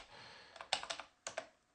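Quiet typing on a computer keyboard while entering a terminal command: a short burst of about eight crisp keystrokes in an uneven rhythm, close and alone.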